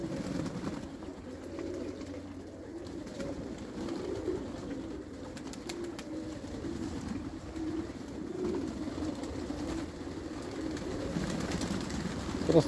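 Low, soft cooing of pigeons bathing, several birds overlapping in a steady murmur, moderately close, with faint background hum and no talking.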